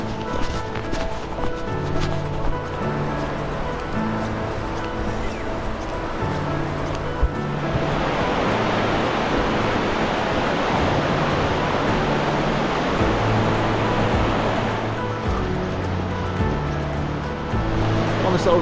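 A river near Keswick flows beneath a footbridge on an old railway-line walk. A steady, broad rushing of water swells up midway and carries on loud and close, after a stretch of talking outdoors.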